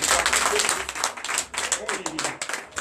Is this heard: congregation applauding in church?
yes